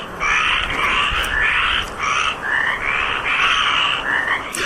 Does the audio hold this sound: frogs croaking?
yes